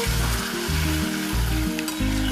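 Rohu fish masala fries in a pan as a little water is added and stirred in, producing a steady close sizzle under stepped tonal background music.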